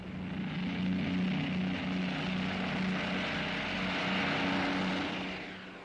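A four-engined Avro Lancaster heavy bomber drones steadily with a deep, throbbing propeller-engine hum, loud and continuous throughout with no voices.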